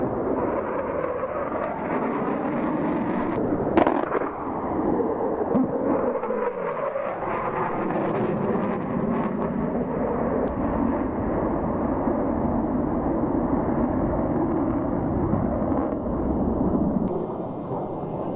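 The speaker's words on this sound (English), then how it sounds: "You should be able to hear the guns firing." Military aircraft firing guns at the Axalp air firing demonstration in the Swiss Alps: a continuous distant roar of jet engine and rumbling gunfire echoing through mountains, sustained and fairly loud, with one sharp crack early on.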